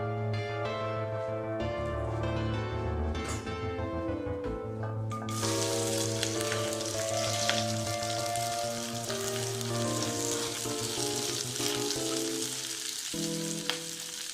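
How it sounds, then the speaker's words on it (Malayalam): Music plays at first, then a loud, steady sizzle of chopped okra and green chilies frying in hot oil takes over and keeps crackling. "അതിലേക്ക് ആ വെണ്ടയ്ക്ക മുറിച്ചതും പച്ചമുളകും കൂടി ഇട്ടിട്ട് നമുക്കൊന്ന് വറുത്തെടുക്കാം"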